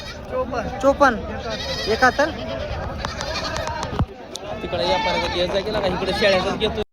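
Goats bleat repeatedly at a village goat market, close and loud, their wavering calls mixing with people talking throughout.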